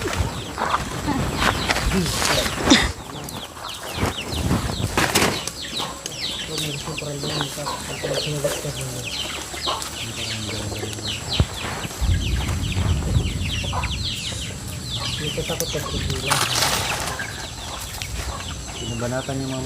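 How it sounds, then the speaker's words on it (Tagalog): Chickens cluck and squawk repeatedly in a busy, noisy scene, with bursts of wing flapping and background voices throughout. "Pinabanatan yung mga manok ko."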